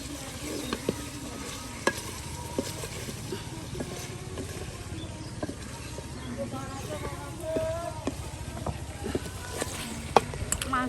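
Meat and small-cut potatoes sizzle and get stirred in a pan, a low steady frying hiss with scattered scraping clicks, while a voice talks intermittently over it.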